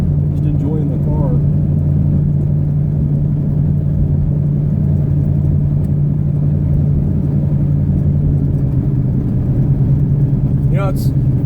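A 1980 Buick Regal cruises along the road with a steady, low engine rumble and drone that fills the cabin the whole time, and a voice briefly surfaces over it.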